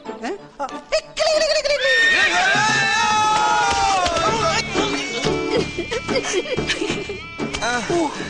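A horse whinnies loudly and close by, its long wavering neighs mixed with voices and crowd noise.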